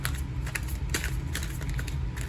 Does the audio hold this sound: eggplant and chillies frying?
no